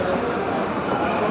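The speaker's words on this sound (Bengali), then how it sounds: "উপরে ট্রেন আছে" A train rumbling past on an overhead track in Kolkata, a loud steady roar filling the whole brief moment.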